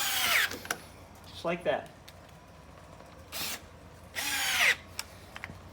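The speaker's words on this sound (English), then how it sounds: "Once you start your drill, don't stop." Power drill driving screws into a balcony chair during assembly, with a few short whirring bursts separated by pauses; a person speaks briefly between them.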